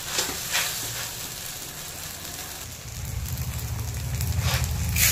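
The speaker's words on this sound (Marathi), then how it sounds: "हे बघा खिचडी मस्त परतत आलेली आहे." Sabudana khichdi sautéing in a pan gives a steady frying sizzle, with a couple of stirring scrapes early on and a fuller, louder crackle building toward the end. Close by, with no voices.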